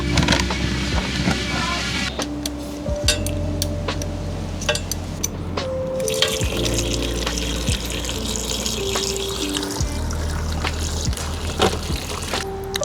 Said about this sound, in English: drain the distilled water that's in the system